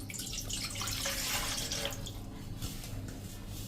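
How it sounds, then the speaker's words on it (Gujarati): Water pours steadily into a pan on a low-flame gas stove, readied for steaming khatiya dhokla, a continuous close splashing rush for a few seconds. "એક પેનમાં આપણે થોડુંક પાણી મૂકી દેશું"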